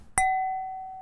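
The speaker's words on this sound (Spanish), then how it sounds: "Este tono de la copa ahora mismo, sin procesar, suena así," A single struck wine glass rings out with a clear, pure tone that sustains and slowly decays, heard alone and unprocessed.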